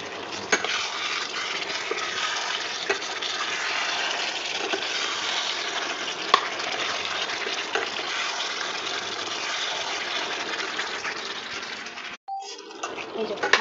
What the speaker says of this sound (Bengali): এই যে মাটন কষানো চলছে